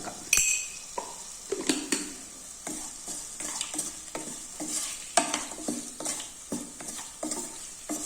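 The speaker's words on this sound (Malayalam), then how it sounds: "മഞ്ഞൾപ്പൊടിയൊക്കെ ഒന്ന് ചേർത്തിയിട്ട് നന്നായിട്ടൊന്ന് വഴറ്റിയതിന് ശേഷം" Tomatoes with salt and turmeric sautéing in a pan for rasam: a soft sizzle under repeated scraping stirs of a spoon against metal, with occasional light clinks, close and fairly quiet, no talking.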